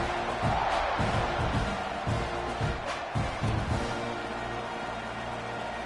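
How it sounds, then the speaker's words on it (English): Stadium crowd noise from a college football video game, Texas A&M against Florida, a steady low roar with rhythmic swells and chant-like pulses, loud and continuous throughout. "this crowd is buzzing after that last score"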